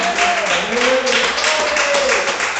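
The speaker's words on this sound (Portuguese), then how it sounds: "As palmas que exaltam o santo nome de Jesus." Congregation applause at an evangelical church service, dense continuous clapping filling the room with a sustained tone of voice or singing running underneath.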